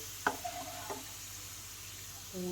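French fries bubble faintly in hot oil. A couple of soft knocks and clinks rise above the low, steady fry.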